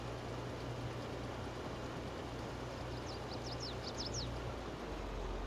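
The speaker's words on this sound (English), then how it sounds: "A bird going off in the background doing wolf whistles" Faint, quick wolf-whistle calls from a bird come in a short burst of about six whistles, distant and half-buried under a steady background hiss and low hum.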